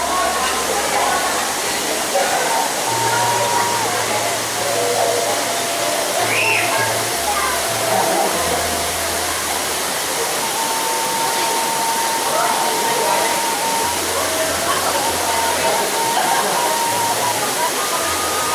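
Curug Cikuwulung waterfall in Pamijahan, a loud continuous broadband roar of falling water, close and steady throughout, with faint voices and occasional low rumbles beneath.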